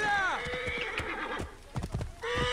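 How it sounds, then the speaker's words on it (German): A horse in Assassin's Creed Origins whinnies loudly up close, followed by a scatter of hoof clops and snorting, then another whinny begins at the end. "Das Pferd hier."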